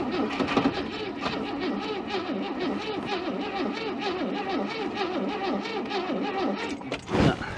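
An old scrap-heap Ford Falcon engine cranks steadily as the starter turns it over, a loud, close, rhythmic whirring that runs for several seconds without catching, then stops with a brief clunk near the end.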